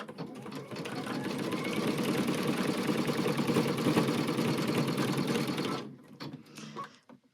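An embroidery machine stitches an in-the-hoop bag, its needle chattering in a fast steady mechanical rhythm close by, loud for most of the stretch before it stops and leaves quiet handling noises.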